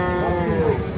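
A cow at the Shahapur cattle market gives a loud, close, drawn-out moo that fills the whole moment, with no talk over it.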